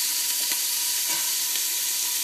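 Celery and garlic sauteing in a pan give a steady, close, loud sizzle and hiss with faint stirring scrapes.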